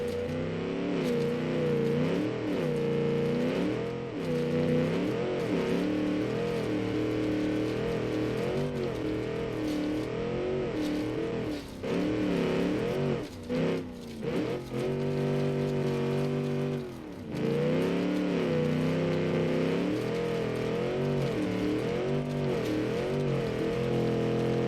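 A hefty car in the Mad Max video game drives with a loud, continuous engine roar, its pitch rising and falling as it revs, with a few brief dips in the drone.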